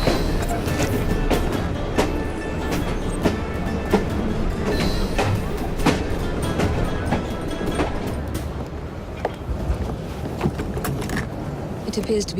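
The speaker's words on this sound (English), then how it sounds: "at least we have a train now" A train rolls along in the Assassin's Creed Syndicate video game, a loud, steady mechanical rumble with scattered metallic clanks and clatters running throughout.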